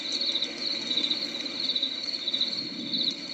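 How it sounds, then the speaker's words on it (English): Crickets chirping in a steady, dense trill over soft rain ambience, played back as a continuous background recording with no voices. "Crickets and rain, I think, is what we got right now."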